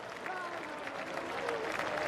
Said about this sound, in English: a warm round of applause here at Hagley Oval